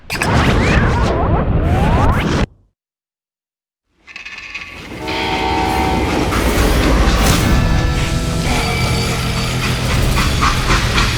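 A freight train rolls on rails in the Western shooter game Call of Juarez, with loud rumbling and screeching metal that cuts to silence for about two seconds. The dense rolling clatter then returns with whining, squealing tones.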